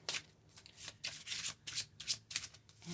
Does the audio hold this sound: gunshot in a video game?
no